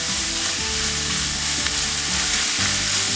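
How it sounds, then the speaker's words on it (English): Bacon rendering in a pan for bacon jam, a loud, dense, continuous sizzle and crackle up close with no speech over it. "We're just gonna let that bacon render down."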